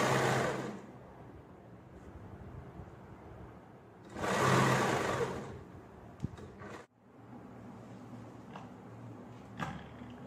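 A sewing machine runs in bursts while stitching the edge of a blouse, its motor whirring loudly for about a second at the start and again around the middle, with quieter mechanical handling noise between runs.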